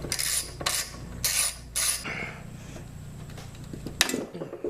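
Ratchet loosening an 8 millimeter bolt on the tin cover of a seized Predator 212 small engine, a few quick close clicking bursts followed by quieter rubbing and mechanical handling noise.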